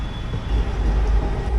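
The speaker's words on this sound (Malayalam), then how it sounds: "2 ട്രെയിനുകൾ അങ്ങോട്ടും ക്രോസ് ചെയ്യും." Train carriages rumble along the rail line on the Sabari Express near Secunderabad, a steady close low roar and clatter with no talking.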